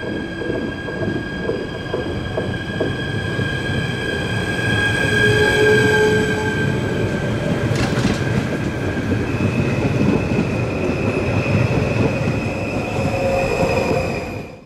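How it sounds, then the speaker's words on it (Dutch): A Dutch Sprinter train pulls out of a station with loud, steady rail rumble and wheel noise, overlaid by sustained tonal motor whine that shifts in pitch as it accelerates, continuous for about fifteen seconds. "Dat was de eerste Intercity en nu gaat de Sprinter vertrekken"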